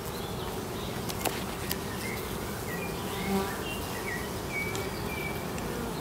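Honeybees buzzing at a hive, a steady soft swarm drone with a few individual bees passing close, calm and continuous with no talk.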